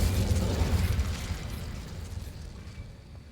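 Hogwarts Legacy spell blast effects: a loud, rumbling burst with crackling texture that swells at once and slowly decays, with no voices.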